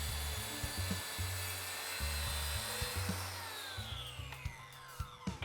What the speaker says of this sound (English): So I made a cut parallel to the non-square line with the boards upside down.